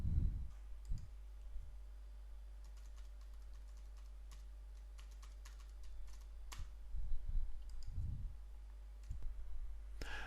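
Mouse and keyboard clicks during a Joomla 3 website installation, a run of sharp, close clicks scattered over ten quiet seconds, some in quick bursts and others isolated, with no talking.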